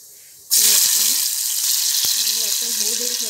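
Garlic drops into hot oil and sets off a sudden loud, broadband sizzling hiss that continues steadily. A person talks over it.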